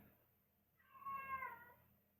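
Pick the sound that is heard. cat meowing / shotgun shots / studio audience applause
cat meowing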